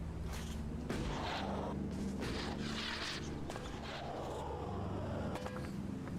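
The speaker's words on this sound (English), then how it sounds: "Explosive rockets." Explosive rockets firing in the video game Elex, heard as a run of muffled booms and rumbling blasts over a dense, continuous game-sound bed.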